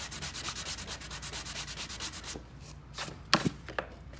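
Sandpaper rubs back and forth across a soft-top surfboard in a steady rhythm of close, even scratchy strokes, then stops, leaving a few scattered handling knocks and brushes.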